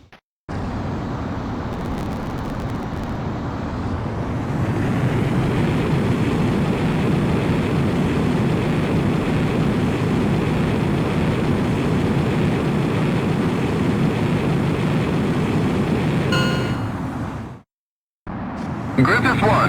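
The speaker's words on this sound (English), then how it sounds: "you are cleared for takeoff" A jet fighter in the video game Ace Combat X roars through its takeoff run, a loud continuous engine rumble and hiss that swells after a few seconds and holds steady before cutting off.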